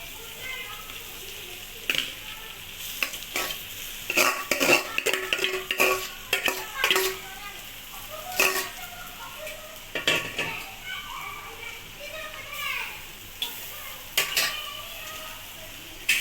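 Tapioca (cassava) pieces being stirred in hot oil in a pan, with repeated scraping and clattering strokes of a spoon over a steady sizzle; a voice speaks intermittently through the cooking.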